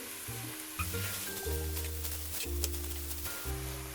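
Chicken mince sizzles in a pan with lightly fried onions, a steady close frying hiss running throughout with light stirring, no talk, over a background of sustained tonal music.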